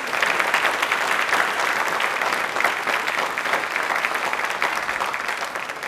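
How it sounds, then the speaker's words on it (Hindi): A studio audience at a Hindi Rajbhasha fortnight quiz programme breaks into sustained, lively applause, a thick and even clapping that runs for several seconds before easing slightly at the close. "प्लीज एक बार तालियां जोरदार हो जाए"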